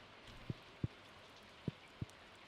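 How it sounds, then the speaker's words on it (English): Rain falls outdoors as a soft, faint background wash, punctuated by four isolated, distinct drips landing on a surface at irregular intervals. "Ooh, it's raining."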